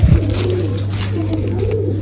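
Pigeons coo softly in a soft repeating murmur while being fed, with a steady low hum beneath and no voices.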